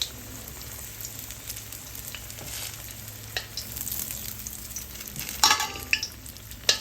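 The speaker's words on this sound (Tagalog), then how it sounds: "mabawasan ko yung mantika at maggigisa na tayo." Vegetables being sautéed in reduced oil in a pan for a Filipino bean sprout and tofu stir-fry, a low steady sizzle with stirring scrapes and a few sharper crackles toward the end.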